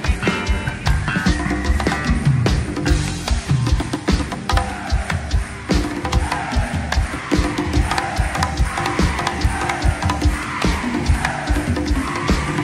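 A worship band at a Chilean church service plays dense, loud percussion and drum kit together with other instruments, a continuous driving groove with crowd-like live ambience throughout.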